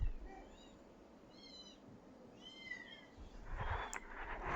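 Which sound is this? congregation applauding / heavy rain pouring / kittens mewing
kittens mewing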